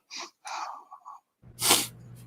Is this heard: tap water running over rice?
no